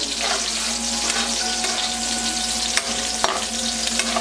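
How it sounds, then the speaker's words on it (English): Onions and garlic sauté in a hot pan for a Filipino banana heart dish, a steady close sizzle and crackle with occasional stirring clicks. "I love sauteing onions and garlic."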